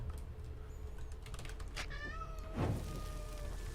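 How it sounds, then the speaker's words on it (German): A pet cat meows several times in the background of a Swiss German The Evil Within gaming session, rising, drawn-out mewing calls mid-level over a steady low hum, with one louder yowl near the end. "Ja, hat er noch meine Katze gehört im Hintergrund."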